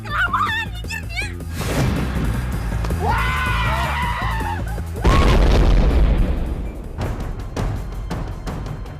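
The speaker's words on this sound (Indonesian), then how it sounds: "Suara ledakan apa itu?" A loud, deep boom bursts out midway through a busy, noisy scene, with voices, a dog barking and a shout around it.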